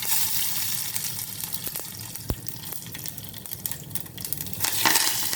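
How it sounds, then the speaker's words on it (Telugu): Tempering spices and dry red chillies crackle and sizzle in hot oil for a pongal sambar, a steady broadband frying hiss with scattered pops and one sharp crack near the middle, no talk. "ఆయిల్ హీట్ ఎక్కింది. పోపు గింజలు వేస్తున్నాను."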